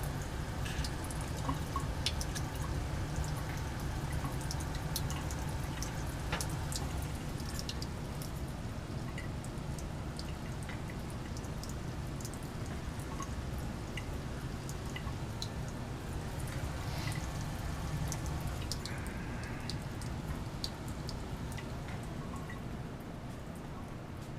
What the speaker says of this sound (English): as evidenced by the dripping off the tip of the condenser